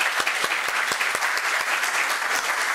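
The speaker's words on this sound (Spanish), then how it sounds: "les pido unas palmas, por favor" Audience at a PUCP arbitration congress in 2019 giving a round of applause, dense rapid clapping from many hands, steady and moderately close throughout with no talk over it.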